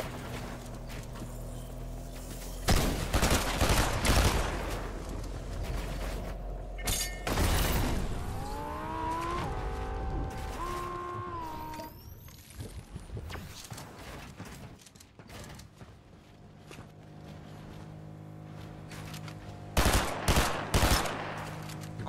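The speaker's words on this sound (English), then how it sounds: "Gold SMG is great." Gold SMG firing in Fortnite, with rapid bursts of video game gunfire in several loud clusters separated by quieter stretches of other game sounds.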